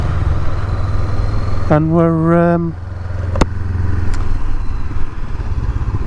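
A Honda CB500X motorcycle engine drones steadily while riding on country lanes, a constant low rumble throughout with a brief tonal whine and a couple of sharp clicks over it.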